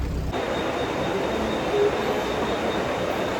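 Continuous low rumble of a train moving past at close range at Dadar railway station platform, steady and loud, with a faint high squeal near the middle.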